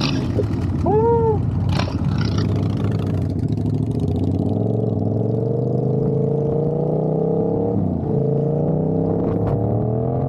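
Yamaha R7 motorcycle, freshly ECU-flashed with a new air filter, revs and accelerates through rising engine tones on a ride, with a brief exclaiming voice near the start.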